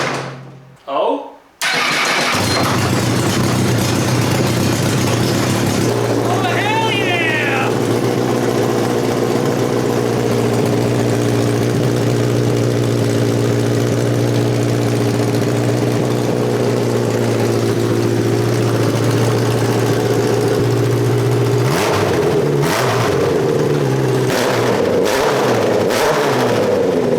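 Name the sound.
homemade Formula 1 car engine running and revving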